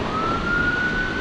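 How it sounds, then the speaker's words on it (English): An ambulance siren sounds on a street, a loud steady high tone holding over rumbling traffic and road noise for a brief moment. "Ambulance."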